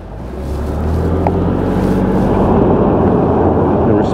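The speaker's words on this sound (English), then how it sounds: "Spinning that tire and that tire." A Ford Expedition Timberline off-road SUV's engine drones loud and steady as its tires spin on a dirt hill, the roar building over the first second and holding, with rough, gritty noise throughout.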